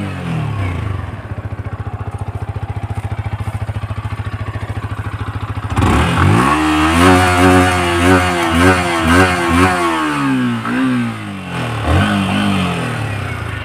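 A 2024 Yamaha R15 V4 motorcycle engine idles with a steady, even thrum, then is revved hard several times in rising and falling surges, loud and close, with no talking.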